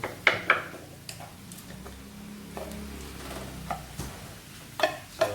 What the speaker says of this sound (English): So again we stir up like this. We stir up slowly but sure.